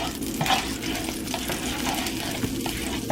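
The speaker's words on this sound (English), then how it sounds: "You're cooking French toast." French toast frying in a preheated pan with a whole stick of butter, a dense continuous close sizzle and crackle with small stirring and pan movements, no talking.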